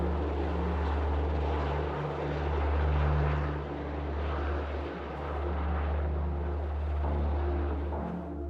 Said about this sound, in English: we notice an Apache longbow helicopter that seems to be keeping an eye on us